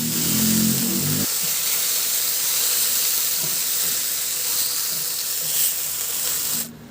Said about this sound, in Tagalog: Ipiprito muna natin ng bahagya. At dahil breast chicken naman yan, madali lang yan maluto.